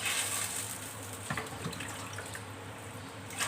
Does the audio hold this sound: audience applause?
no